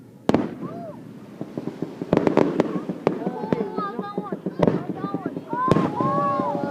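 Fourth of July fireworks over Hilo Bay, launched from a boat, burst in a series of sharp booms and crackles at varying distances, with excited children and adults talking and exclaiming throughout.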